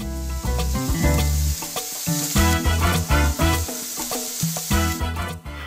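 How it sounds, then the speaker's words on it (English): Steady, loud sizzling of onions frying in a hot sauté pan, with intermittent clanks and scraping of stirring throughout. "You'll want to hear that sizzle noise when you put them in the pan."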